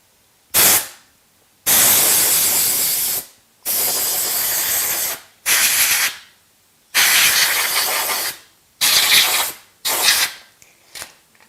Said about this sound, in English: Air compressor.